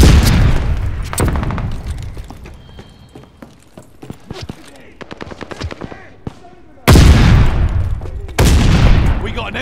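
Call of Duty Vanguard multiplayer: loud bursts of rapid gunfire mixed with sharp booms, including a heavy stun grenade blast near the end, with voices calling out between shots.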